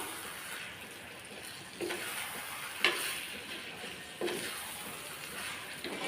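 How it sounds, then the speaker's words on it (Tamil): Citron pickle with jaggery is stirred in a pan, with a soft background sizzle and a few scattered spoon scrapes and knocks, all quiet and close. "இப்போ இதை நல்லா கலந்து விட்டுறலாம்"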